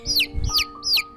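Three quick high chick peeps, each a rising-then-falling chirp, come in a close, clear series over a low background hum.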